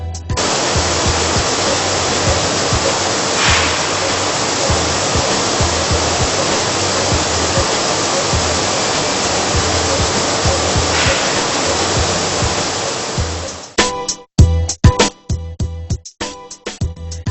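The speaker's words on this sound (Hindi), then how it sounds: "इस सिस्टम में गेहूं को साफ पानी से धोया जाता है" Clean water pours steadily through a wheat washing system as grain is rinsed in an atta flour factory, a dense continuous rushing wash that cuts off near the end into a few irregular clunks and splashes.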